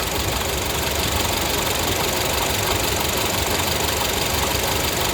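A 2012 Honda Civic EX engine runs steadily with the air conditioning on, giving a continuous close mechanical noise with a faint knocking texture and no speech.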